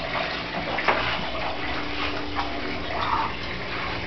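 Tap water runs into an ice cube tray in a Daegu apartment kitchen, a continuous splashing stream with small shifts in tone as the tray fills, no voices over it.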